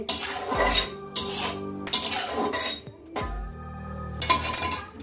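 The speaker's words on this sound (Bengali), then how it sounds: "ঢাকাটা খুলে নিচ্ছি।" The lid comes off a pot of starfruit chutney in a village kitchen, with several close metallic clanks and scrapes of metal on metal separated by short pauses.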